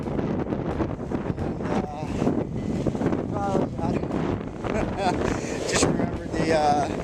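Gusty wind buffets the microphone as a cyclist sprints in the gust front ahead of a thunderstorm in Idaho while riding across America; broadband roaring rises and falls steadily throughout, with someone talking over it.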